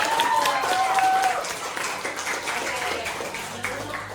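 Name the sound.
classroom applause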